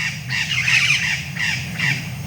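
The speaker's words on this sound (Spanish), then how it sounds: "Aquí no, aquí hay pajaritos, miren." Small birds call and chatter outdoors in a busy, overlapping chorus of harsh squawks and chirps, loud and close, running steadily throughout with no talking.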